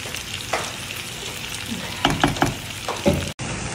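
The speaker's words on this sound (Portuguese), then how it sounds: "Mas agora que chegou a nossa cebola, então agora a gente vai deixar dar uma refogadinha boa." Onion sautéing in a pan with bacon and calabresa sausage, a steady close sizzle and frying hiss with a few stirring scrapes and clatters, no talk.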